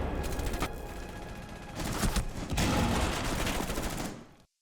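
Video-game gunfire in a ranked match crackles in rapid bursts, sharp repeated shots and sustained automatic fire that swell and fade, moderately loud, with no talking over it before it cuts out.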